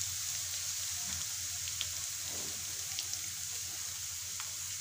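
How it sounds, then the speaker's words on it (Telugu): Dried red chillies fry in hot oil for a homemade tomato pickle, a steady close sizzle with faint pops and crackles running evenly throughout. "ఇగో ఎండు మిరపకాయలు కూడా వేస్తాను"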